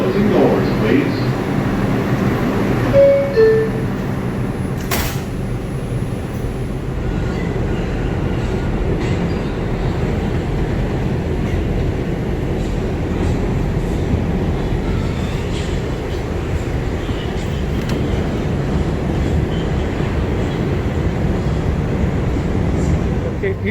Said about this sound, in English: The Bronx Express train.